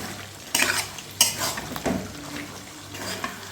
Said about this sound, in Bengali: আমি এখন দিয়ে দেবো কাটা ধুয়ে রাখা মাছগুলান খুব ভালোভাবে নাড়া চাড়া এই সবজি আর মশলার সাথে মিশিয়ে দিব